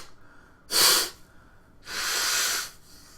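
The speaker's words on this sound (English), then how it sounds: "Just look at this overlay while I blow my nose." Someone blows their nose twice, a short sharp honk followed by a longer, drawn-out blast, both close and loud.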